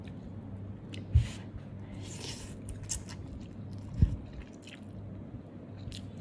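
Someone eats a takeaway lunch bought in Singapore, soft close chewing and squishy bites with two sharper crunchy bites over low background hum, and no talk.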